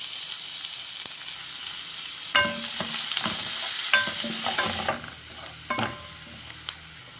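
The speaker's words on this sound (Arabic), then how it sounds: "وبعد ما نشوح البصل بالثومة هننزل باللحمة المفرومة" Chopped onion and a garlic clove sautéing in a quarter cup of oil, with a steady sizzle and repeated stirring scrapes and clinks of a utensil against the pan; no talking.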